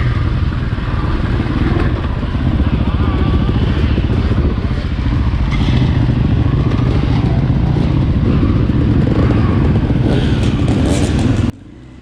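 A 2020 KTM 500 XCF-W four-stroke dirt bike ridden at Crow Canyon roars steadily and loudly close by for about eleven seconds, engine note rising and falling with throttle and clattering over terrain, then cutting off abruptly near the end.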